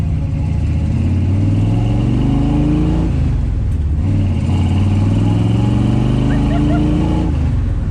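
A Ford Mustang 'Eleanor', the original car from Gone in 60 Seconds, revs up loudly twice, its engine pitch climbing steadily each time before dropping back, close to the listener.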